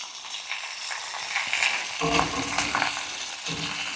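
Sausages crackle and sizzle in a cast iron pan heated on a solar cooker, the frying swelling louder partway through with occasional pops and shifting noises close by.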